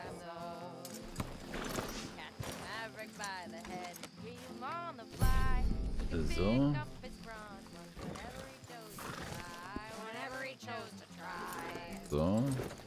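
A horse in Red Dead Redemption 2 clip-clops and whinnies several times, with loud neighs and snorts mixed among hoofbeats, while someone talks over it.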